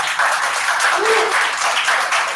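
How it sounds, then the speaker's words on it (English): An audience at a colon health talk applauds steadily for a couple of seconds, a dense, even wash of clapping from many hands with no break. "another round of applause"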